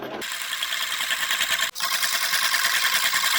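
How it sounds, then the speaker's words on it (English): A cheap sewing machine runs a zigzag stitch through cotton fabric, a steady close whirring hum with a brief pause midway before it resumes, heard alone without talk. "I'm going to put a zigzag stitch around every piece."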